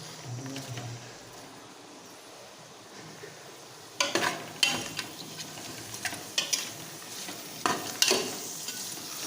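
Onions fry in a pan for vegetable biryani with a continuous sizzle, joined in the second half by louder bursts of stirring and scraping against the pan at an uneven rhythm, with no voices.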